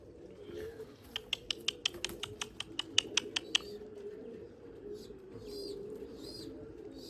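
A pigeon squab gives a rapid run of about fifteen sharp, high squeaks, then a few softer, longer cries follow over a low background hum in a pigeon loft.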